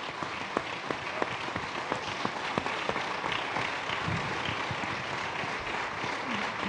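Applause from a church congregation praising the Lord, a steady broadband wash of many clapping hands with distinct claps poking through, sustained throughout at moderate level without talk.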